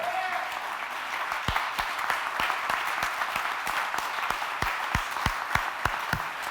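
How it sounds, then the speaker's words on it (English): An audience at an awards ceremony claps throughout, a dense, steady applause with some sharp individual claps standing out near the front. "let's give them all a big round of applause"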